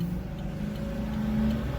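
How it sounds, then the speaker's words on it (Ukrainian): An old black car driving past on a road between San Jose and Los Gatos, California: a low, steady engine and tire rumble, moderately close, brief and continuous with no talk. "чорненька машинка поїхала, старенька."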